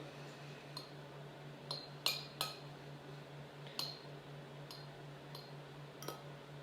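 Venison spaghetti being tossed with oil in a bowl: faint, sparse clinks and taps of a utensil against the dish, soft and close over a low steady hum.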